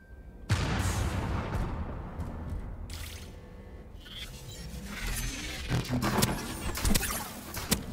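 Explosions in the video game Starsiege Deadzone: a sudden loud blast followed by rumbling debris, then several sharp cracks and bursts scattered over the following seconds.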